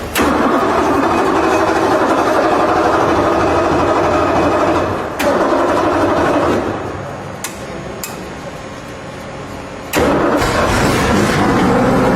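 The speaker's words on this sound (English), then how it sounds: "Give it some fuel, ignition." An engine cranks over on ignition and catches, roaring loudly and steadily, dipping to a quieter idle midway with a few sharp clicks, then surging back to full loudness near the end.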